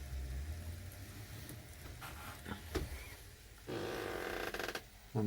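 Two small model train engines run together on a layout beneath a town scene, giving a low steady motor hum with mechanical rattles and clicks, and brief louder bursts of wheel and track noise near the end.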